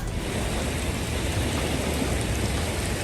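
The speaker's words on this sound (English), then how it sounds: "Broomfield Park turns into a river after heavy rains" Heavy rain pours steadily in a park, a dense, even hiss with no letup and no voices over it.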